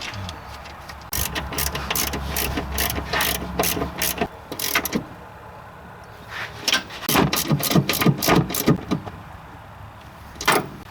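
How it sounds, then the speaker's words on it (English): A hand ratchet tightens the upper strut bolts on a 2002 Mitsubishi Lancer, sounding as close, rapid clicking runs repeated in several bursts with short pauses between them. "now we're going to tighten up these bolts that hold the strut on up top"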